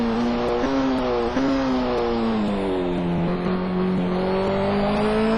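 Racing video game BMW race car with a no-fear livery heading out on the Donington circuit, its engine droning steadily and loud throughout, pitch rising and dipping through gear changes without any talk.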